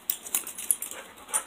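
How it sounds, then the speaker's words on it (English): A dog pants and snuffles close by, with quick soft breathy bursts in an irregular rhythm. "Today, I'm just bringing in my dog, Grizzly."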